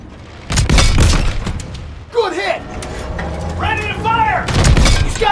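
A tank cannon fires in Call of Duty WWII, a heavy booming blast with rumbling tail at the start and again near the end, while voices shout over the battle in between.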